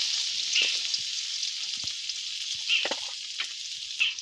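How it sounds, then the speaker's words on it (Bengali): Potatoes sizzle and crackle in hot oil in a wok for a koi fish curry, a steady bright hiss broken by a few louder pops and stirring scrapes. "আমি আলুগুলো ভেজে নেব কড়াইতে তেল দিয়ে দিচ্ছি একটু"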